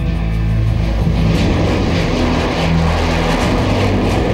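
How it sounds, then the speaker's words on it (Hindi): The Tejas, an indigenous Indian light fighter jet, roars loudly and continuously during the Republic Day parade on Rajpath. A dense broadband engine noise holds steady throughout with a low drone underneath and no voices. "तेजस स्वदेशी लड़ाकू विमान है।"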